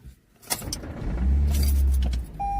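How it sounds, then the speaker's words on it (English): A car crashes in a video game, with a sharp impact burst followed by a loud, heavy low rumble and scraping, then a thin electronic tone near the end. "Well, I just crashed my fucking car."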